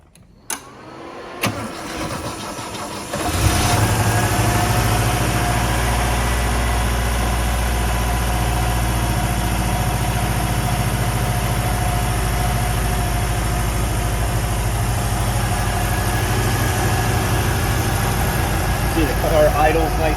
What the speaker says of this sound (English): Car idles nice and smooth.